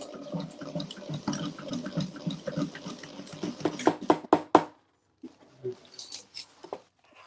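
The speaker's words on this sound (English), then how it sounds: "And I am gonna just pound this a little." Pounding a top-stitched sewn fabric seam while making a Zip n Go bag: a run of sharp, loud knocks that speed up into a burst, then stop, followed by scattered fainter taps and handling noise.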